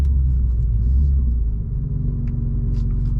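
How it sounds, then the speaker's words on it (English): A G87 BMW M2 held on the brakes in automatic mode while brake torquing, its engine giving a deep, steady idle-like rumble heard from close by inside the car, with no clear rise in revs. "we're gonna try it in automatic mode and brake torquing it myself"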